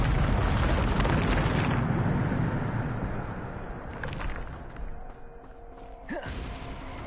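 A Bombarda blasting spell in Hogwarts Legacy erupts in a loud, rumbling explosion that slowly fades, followed by lighter magical swishes and debris sounds.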